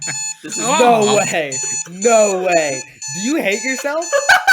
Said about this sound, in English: That's my alarm every morning.